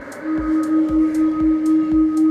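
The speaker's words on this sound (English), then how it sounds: "there's the tone when you put the car in reverse" A Tesla's pedestrian warning tone in reverse: a steady electronic hum with a sustained tone, pulsing gently about twice per second, with a low thump on each pulse; no talking.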